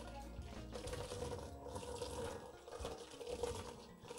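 Water running and splashing into a basin, a steady close gushing with gurgling, continuous throughout, no talking.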